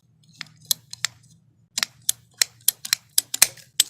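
A sprinkler line pipe is cut in a series of sharp, crisp snips and clicks, close and fairly quiet, a few scattered cuts followed by a quicker run of about a dozen.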